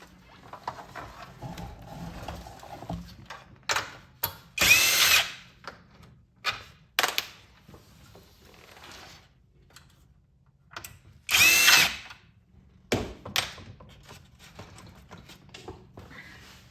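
Power drill backing out big screws from an arcade monitor built with a CRT TV tube and a Wells Gardner K7000 chassis: short bursts of whirring motor, loud and close, with two longer high-pitched runs and clicks between.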